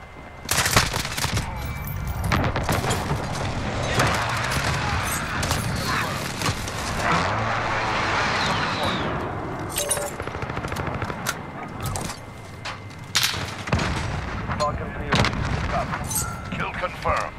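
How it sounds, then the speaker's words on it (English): Rapid machine-gun bursts and booming precision airstrike explosions rattle through a Modern Warfare firefight, dense and loud for the whole stretch, with a voice speaking over the chaos. "Enemy precision airstrike inbound."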